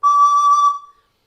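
A recorder played with the thumb hole left uncovered gives one short, shrill, squeaky whistle-like note, loud and close, held under a second then cut off, with no talk.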